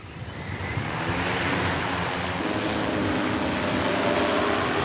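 Large drone built as a fire-breathing Spyro figure flying outdoors, a steady, loud, close propeller whine and buzz that holds without a break, with no talk.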